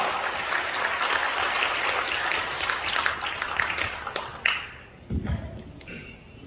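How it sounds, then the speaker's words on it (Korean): A crowd at a Korean civic group gathering gives a big round of applause to welcome Professor Kim Hak-seong, a broad, sustained wash of clapping that thins out and ends with a few scattered thumps. "큰 박수 부탁합니다"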